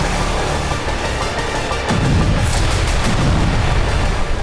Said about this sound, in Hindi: मोर्टार और तोपखाने से बारूद बरसाते हुए एक के बाद एक गांव को कब्जा कर आगे बढ़ रही है